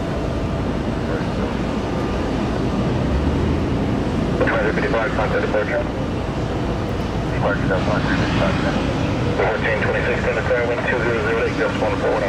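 A jet airliner takes off at Tampa airport, its steady, roaring engine noise filling the scene continuously while people talk over it.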